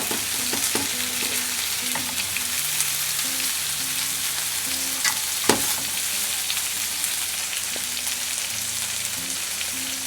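Tofu for Korean dubu jorim fries in a pan with a steady, even sizzle and crackle, broken by a few small pops and one sharper clack.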